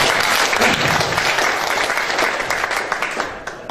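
An audience at a cooperative business presentation breaks into loud, dense applause, many hands clapping together in a steady roar that tapers slightly toward the end.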